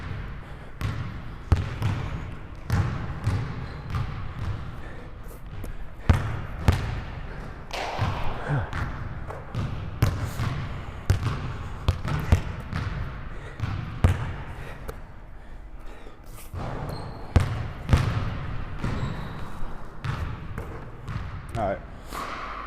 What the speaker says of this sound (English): Let me get 2 free throws and get some water real quick.